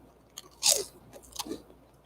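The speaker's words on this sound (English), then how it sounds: "This is really crunchy." Someone eating crunchy food in bed takes two close, crisp crunching bites, the first louder, with quiet pauses between.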